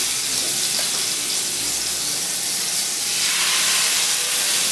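Beef sears in a very hot frying pan with a loud, steady sizzle and hiss that fills the whole stretch, close and continuous with no talking.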